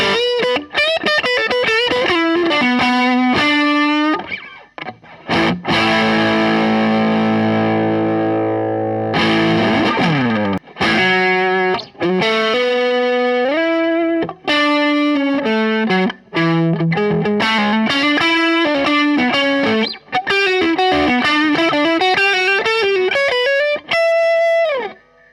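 Electric guitar through a Boss OD-1 or SD-1, or an Ibanez TS808 or TS9 overdrive pedal: loud, continuous gritty single-note lines and bends with a long sustained chord in the middle and no voices.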